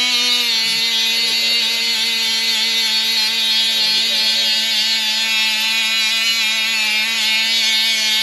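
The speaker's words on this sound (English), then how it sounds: "Now I'm gonna take my die grinder here, take off this powder coat or paint or whatever it is" A die grinder strips powder coat or paint from trailer steel ahead of welding. It gives a steady, high-pitched whine that holds unbroken and loud at close range, with no talking.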